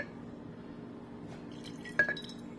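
Crystal-growing solution is poured into a container in a quiet room, giving a faint trickle and drip that ends in a brief clink of glass near the end.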